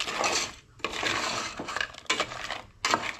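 A metal spoon scraping and clinking in a pan while masala for a Goan-style crab curry is stirred. The scrapes come in close bursts with short pauses between them, and no one speaks.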